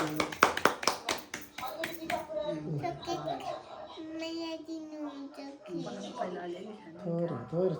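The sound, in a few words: clapping at birthday celebration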